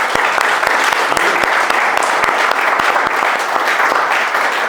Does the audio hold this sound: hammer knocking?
no